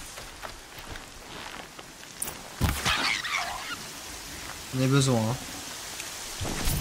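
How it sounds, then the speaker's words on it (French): Steady rain patters throughout in the video game Horizon Zero Dawn, with someone speaking briefly at the start and a sustained tonal hum near the end. "Oh non, il pleut."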